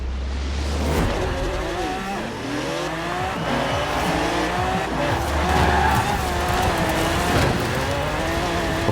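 A Bugatti Veyron races on dirt in Forza Horizon 4, its engine roaring steadily with rising and falling revs, gear shifts and tyre skids throughout, loud and continuous.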